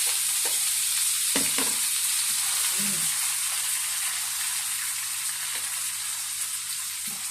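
A single large tomato added to a hot pan with burong isda, fermented rice and fish, giving a steady, close sizzling hiss with scattered clicks and a faint murmur of voice.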